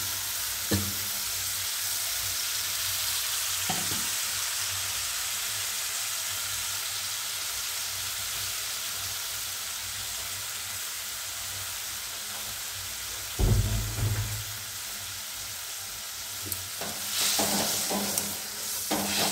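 Steady hiss of spices frying in oil for a tinda and sweet corn curry, broken by a sudden loud sizzling burst as a little water hits the pan, then settling back to a crackling simmer.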